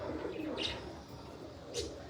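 A female pigeon cooing softly while held in the hand, with a few faint, low, throaty coos up close in a quiet setting.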